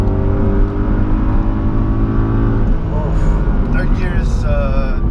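A Mercedes-Benz CLK63 AMG Black Series V8 pulls hard under acceleration, a loud, deep engine roar building in pitch from inside the car, with the tone shifting partway through.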